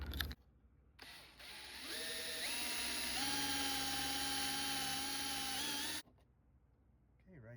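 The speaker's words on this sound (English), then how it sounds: "I'm going to do is go ahead and use this countersink, the smallest countersink I got, countersink bit" A small countersink bit driven by a power drill bores into wood, its whine climbing in pitch as it spins up, holding steady for about four seconds, then cutting off abruptly, with quiet room tone around it.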